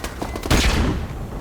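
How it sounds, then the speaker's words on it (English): Flashbang grenade detonating in Call of Duty Modern Warfare Remastered, a single loud sharp blast with a brief burst of noise, then a fading ring, close and alone. "Flashbang out."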